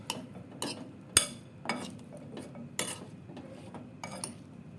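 Raw potato fries being tossed with salt and turmeric in a bowl, giving a series of soft clinks and scraping knocks at an irregular rhythm, close and fairly quiet with no talking.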